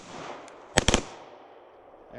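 A pistol fired in bump-fire fashion lets off three quick shots in a tight burst, sharp and loud against quiet surroundings.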